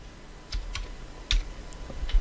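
A few sparse keystrokes on a computer keyboard, typing a short word, sounding as crisp close clicks spaced irregularly over a quiet background.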